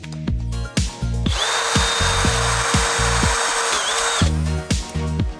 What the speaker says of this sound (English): we actually want to drill pilot holes